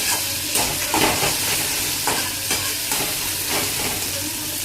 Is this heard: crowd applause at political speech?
no